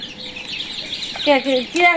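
Chickens clucking close by, a few short rising calls with a sharp repeated cluck pattern near the end, over a faint background murmur.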